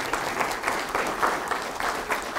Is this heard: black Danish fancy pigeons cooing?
no